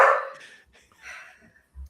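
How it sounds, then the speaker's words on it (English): A dog barks once up close, followed by a softer yip or whimper and a faint low thump, all within a couple of seconds with no talking. "So there are dogs in the bathroom"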